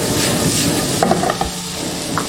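Garlic, ginger and scallion hit hot oil with shredded watermelon rind and green and red pepper strips, a steady loud sizzle with brief stirring scrapes partway through.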